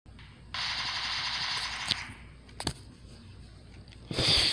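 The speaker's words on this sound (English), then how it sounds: "This is a pistol." Pistol gunfire in the mobile game PUBG Mobile, a sustained rapid burst of shots followed by a pause, a couple of sharp isolated cracks, then a loud closing burst, all close and without speech.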